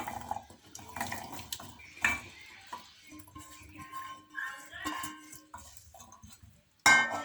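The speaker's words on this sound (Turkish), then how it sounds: "Şu anda tencereye boşaltıyorum." Clattering and scraping of chopped quince pieces tipped into a metal pot, with knocks and rustles, ending in a sharp clank.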